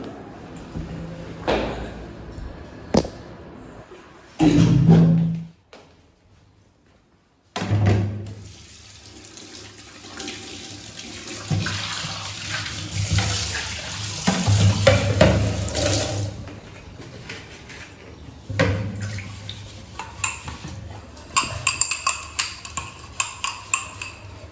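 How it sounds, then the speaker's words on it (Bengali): Plate being rinsed under running tap water after a meal of jackfruit curry and rice, with steady splashing and clinking of dishware, brief louder bursts and a short quiet gap midway. "এবার থালাটা ধুয়ে নেব।"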